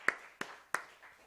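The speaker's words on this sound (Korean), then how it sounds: "박수 크게 합니다" Three sharp, evenly spaced claps ring out in a quiet church hall as the congregation applauds its young people, each clap distinct and moderately close, with a soft murmur trailing after.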